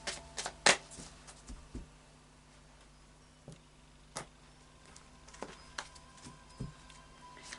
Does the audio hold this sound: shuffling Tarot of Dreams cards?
yes